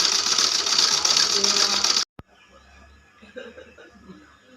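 A sewing machine runs fast for about two seconds and then stops abruptly, leaving a quiet household room with faint voices and light laughter.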